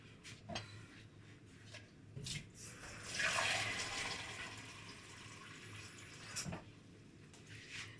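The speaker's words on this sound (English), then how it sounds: "This is 2 pints of water into the pot." Two pints of water poured into a pot of pineapple and other juice ingredients for boiling, a rushing stream near the middle with scattered clanks before and after.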